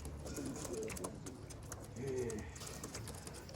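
Tippler pigeons coo softly and repeatedly in a loft, low throaty murmurs overlapping with light rustling and faint background noise.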